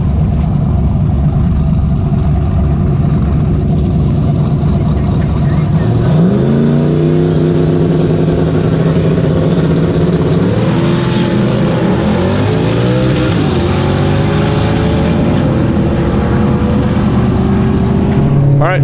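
Turbocharged LS-powered Camaro on a drag racing pass, a loud rumbling engine that climbs through rising revs and gear changes, droning close and heavy throughout, with a voice faintly under it.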